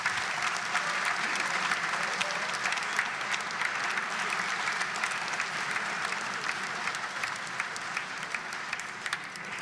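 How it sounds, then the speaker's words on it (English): Dense, steady applause from an audience at a robotics forum keynote, a continuous wash of many hands clapping that holds evenly for nearly ten seconds, with no speech over it. "I would like to have a very, very big applause for Mercedes and Dürr."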